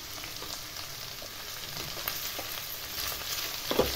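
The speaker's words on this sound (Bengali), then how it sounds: "সব কিছু দিয়ে ভালোভাবে এবারে নেড়ে চেড়ে একটু ভাজা ভাজা করে নেব।" Potato, carrot, capsicum, onion, green chilli and peas fry in a pan with a steady close sizzle, punctuated by scraping stirs and a louder clatter of the spatula near the end; no voices.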